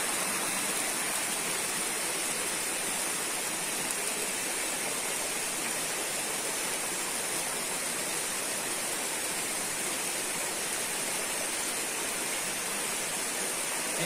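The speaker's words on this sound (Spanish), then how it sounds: "Una cascada de más de 20 metros de altura" A waterfall more than 20 metres high with crystal-clear water at a bird refuge in Nocaima, Cundinamarca, gives a steady, even roar of rushing water that fills the whole clip without breaks.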